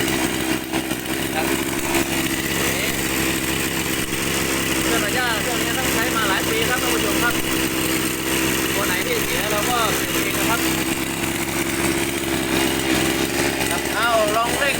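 A shoulder-mounted brush cutter's small two-stroke engine, fitted with a new wooden shaft tube, revs steadily and loudly close by for the whole stretch, its buzzing drone holding a constant high pitch.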